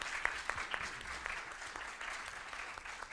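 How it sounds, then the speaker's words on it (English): At a DDD Perth 2022 tech conference session, a quiet, distant round of audience applause follows a talk, with scattered sharper claps standing out early and the clapping staying faint throughout. "Just one more quick round of applause."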